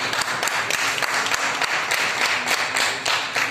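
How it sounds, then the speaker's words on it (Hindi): An audience at a Mission Vande Matram Foundation event claps to welcome a guest, a dense, steady round of many hands with a few sharper claps standing out, loud and close throughout. "जोरदार तालियां बजाकर स्वागत करते हैं"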